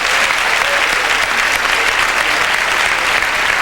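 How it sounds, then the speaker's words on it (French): A live comedy-show audience applauds steadily for an audience member called up by the performers, a dense, continuous wash of clapping from many hands with no pause. "Raymond, on l'applaudit, s'il vous plaît."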